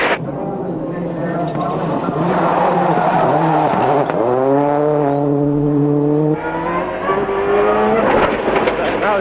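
A rally car races hard along a loose gravel stage, its engine climbing and falling through repeated gear changes with skidding tyre noise, loud and close, while a commentator talks over it.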